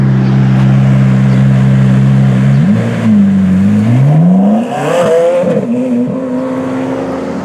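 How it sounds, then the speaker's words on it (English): A Ferrari F430 Challenge race car idling loud and close at a street stoplight, a steady deep burble that then blips and revs up and down with shifting pitch. "I'm sitting in a stoplight in a Ferrari Challenge car"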